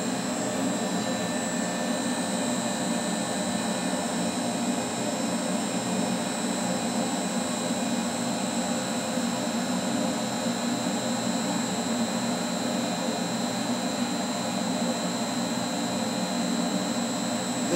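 An air filter flow test bench for Kawasaki Z and Versys filters blows air in a loud, steady, jet-like roar with a constant high whine, unbroken throughout and without voices.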